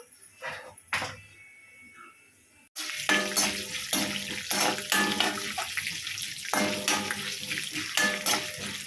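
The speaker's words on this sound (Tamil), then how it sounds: "கடலைப்பருப்பு போட்டு நல்லா பொரியட்டும்" Chana dal frying in hot oil for an okra poriyal masala: a steady close sizzle with a few brief clinks first, then a louder continuous crackle with repeated stirring scrapes.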